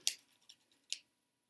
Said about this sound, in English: take your scissors and trim